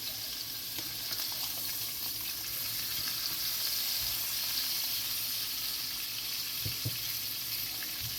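Turkey pieces pan-searing in a frying pan for a pan-seared turkey Alfredo, giving a steady, close sizzle with a broad hiss that holds throughout, plus a few soft clicks and pan knocks near the end.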